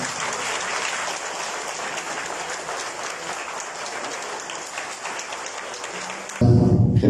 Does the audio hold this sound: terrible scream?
no